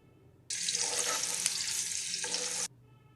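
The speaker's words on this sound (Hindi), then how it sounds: "2 से 3 मिनट हम इसको भूनेंगे" Chopped garlic and ginger fry in hot oil for an aloo methi curry, a bright close sizzle that bursts in suddenly and runs steadily for about two seconds before cutting off.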